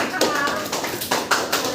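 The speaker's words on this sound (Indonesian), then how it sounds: "Boleh kita berikan aplaus terlebih dahulu." A classroom applauds a student in an Indonesian grade 8 computer lesson, a short burst of scattered hand claps at close range.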